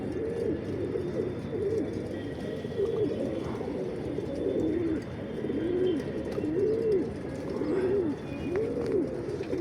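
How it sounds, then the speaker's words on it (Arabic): A flock of pigeons coos in steady, repeated rolling calls, close and continuous, with faint chirps in the background. "في حمام طاير اهو بتاع 25 واحده."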